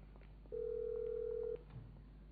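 A single steady electronic ringback tone from a phone call in the GTA V video game, one sustained beep lasting about a second over a quiet low hum, with no speech.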